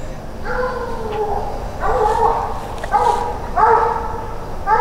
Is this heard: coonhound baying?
yes